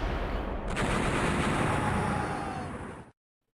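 Artillery fire strikes a mech in the strategy video game Waritorium: one loud, sustained rumbling blast lasting about three seconds that cuts off abruptly into silence.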